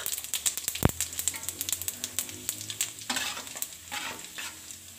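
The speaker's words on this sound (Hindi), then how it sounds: "ये हम डाल देंगे गरम ऑयल के अंदर।" Whole cumin, black pepper, cinnamon sticks and black cardamom hit hot oil in a karahi, giving a faint, crackly sizzle of rapid pops and spits with a brief sharp clatter near the start.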